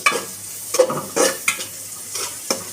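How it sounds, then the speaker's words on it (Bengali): Onions frying in oil until brown while being stirred, a close sizzle broken by repeated scraping and clattering stirs at an uneven rhythm, with no voices. "পেঁয়াজগুলো ভালো করে তেলে নেব, বাদামি কালার করে।"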